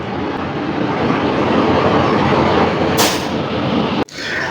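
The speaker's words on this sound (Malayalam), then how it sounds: "അങ്ങനെ ഗംഗാ കാവേരി ട്രെയിൻ വരുന്നുണ്ട്." The Ganga Kaveri Express arrives through rural Madhya Pradesh with a loud, steady, close roar of wheels and engine that fills the air, then cuts off abruptly near the end.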